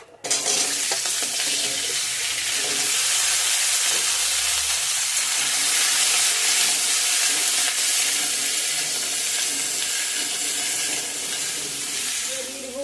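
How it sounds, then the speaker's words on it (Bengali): Pointed gourd pieces frying in hot oil in a pan, a loud steady close sizzle and hiss lasting throughout with occasional stirring sounds underneath. "পটলটা একটু ভেজে নামাবো।"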